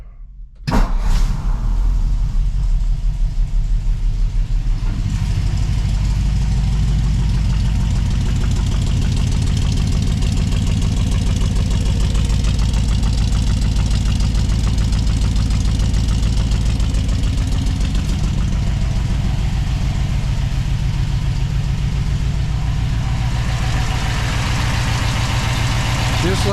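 A 1956 Ford F100 pickup with original ram horn exhaust manifolds cold-starts on partial choke, then settles into a loud, steady, even idle that rumbles on continuously without any talk.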